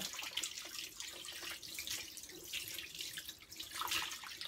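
Cleaned squid rinsed under a running kitchen tap: a continuous close hiss of water with splashing fluctuations as it flows over the squid into the sink, with no talk.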